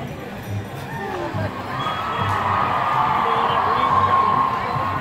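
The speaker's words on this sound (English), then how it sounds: "It's all the cheering going on." Crowd at a Renaissance festival cheering and whooping, a dense outdoor roar that swells and holds loud, with individual shouts poking through and faint talk mixed in.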